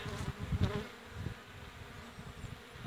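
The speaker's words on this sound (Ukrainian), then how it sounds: "Пчолки обльотуються." Honeybees buzz busily around their hive on a warm early-spring evening, a steady layered insect drone with individual bees passing close by now and then.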